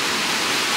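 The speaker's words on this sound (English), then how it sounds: "that fresh flowing water" A waterfall of fresh flowing water roars as a loud, dense, continuous rush of broadband noise, steady throughout the short moment and heard alone.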